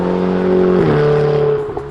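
A Ferrari twin-turbo V8 supercar engine revs close by, a loud steady growl that dips in pitch partway through and then settles into a lower drone.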